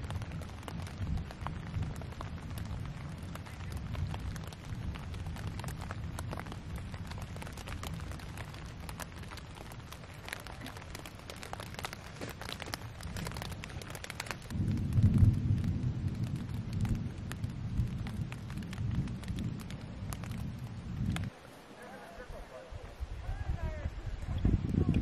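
Rain and low rumbling thunder at a mountain campsite, a steady wash of rain with deeper rolls swelling midway, fairly faint and without talk.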